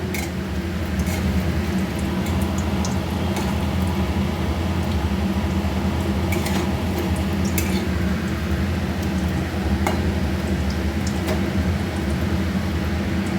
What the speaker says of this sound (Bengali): আমি ভেজে নিচ্ছি ফুলকপির পকোড়াগুলো।